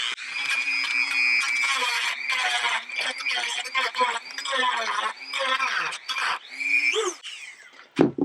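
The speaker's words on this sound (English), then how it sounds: "take our Dremel tool here and go ahead and smooth it out a little bit" A Dremel rotary tool grinds and smooths a plastic aftermarket headlight for a Trailblazer, giving a continuous whining, buzzing drone that wavers in pitch as it bites, close and loud for several seconds before cutting out.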